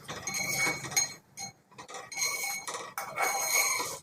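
Metal spoon scraping and clinking against a pan while red cow peas thoran is stirred in a Kerala kitchen, a series of close, bright clinks and scrapes in bursts with short pauses between.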